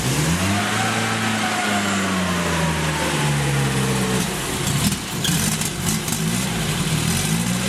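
A Fiat 850 Special's small engine runs close by, revs sagging down into a slightly uneven idle that keeps burbling alone.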